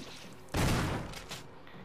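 A short burst of gunfire from the video game Resident Evil Remake erupts suddenly out of quiet game ambience, followed by a softer second shot.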